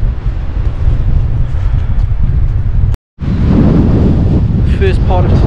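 Strong, cold gusting wind buffeting the microphone on the Cheviot hills, a loud rumbling roar broken by a brief cut, with a voice audible faintly toward the end.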